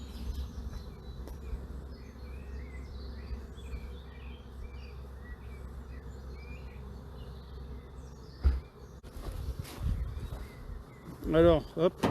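A soft, steady buzzing of many honeybees at a hive in an apiary hums in the background, with a few louder knocks and rustles near the end.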